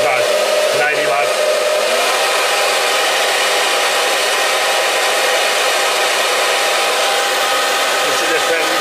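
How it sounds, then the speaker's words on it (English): A 90-watt electric fan runs on a low-frequency pure sine wave split-phase power inverter with a loud, steady broadband whoosh, close and continuous throughout. "this is just a fan, but 90 watts"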